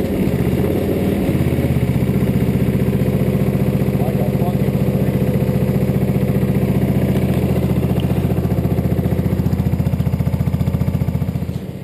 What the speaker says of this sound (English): The tractor's all back together, and we're going to fire it up.